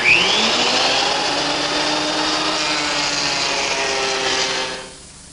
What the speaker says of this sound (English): Now for the 4th and final surface, I return again to the surface planer